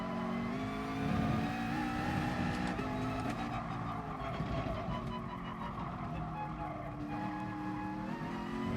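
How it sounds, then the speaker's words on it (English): A high-revving race car engine in Gran Turismo Sport whines continuously, its pitch climbing and dropping with gear changes, loud and sustained without any talking. "I love the sound it makes when it revs high."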